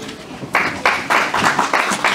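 An audience at a Lenox Hill Hospital self-care event for rabbis bursts into steady applause for a cardiologist speaker after his introduction. The dense clapping starts suddenly after a short quiet moment and continues in uneven waves.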